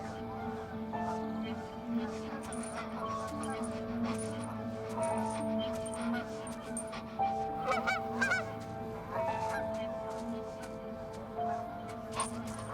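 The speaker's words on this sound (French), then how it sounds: "éloigner les oies des rues et des parcs en les effrayant avec son chien" Geese honk repeatedly at mid distance, a busy flock calling over steady outdoor ambience with a faint voice underneath.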